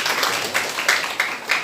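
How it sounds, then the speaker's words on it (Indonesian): A church congregation applauds, a steady patter of many hands clapping at close range with a few sharper claps rising above the wash, brief and unbroken. "Tepuk tangan untuk Tuhannya orang Kristen."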